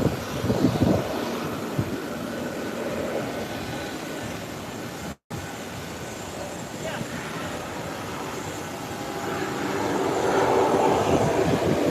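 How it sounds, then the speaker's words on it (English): A small jet aircraft taxis down a runway, a steady, moderately loud engine whine and roar heard from a distance, swelling slightly toward the end, with a brief dropout midway. "Timely taxiing down the runway. There she goes."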